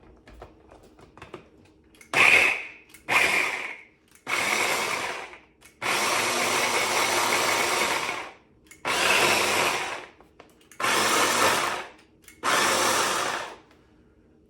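A mixer blends chipotle and shallot into butter in a series of short, loud whirring bursts, about seven of them, with brief pauses in between.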